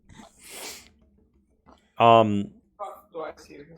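One sharp sneeze bursts out partway through, with a voice talking quietly before it and brief speech after it.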